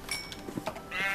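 A Minecraft sheep gives short, fairly quiet bleats among a few soft game noises, with no voice present.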